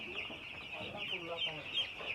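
Chickens clucking close by on a family outing, several short soft clucks and calls in an uneven rhythm, fairly quiet, with faint voices in the background.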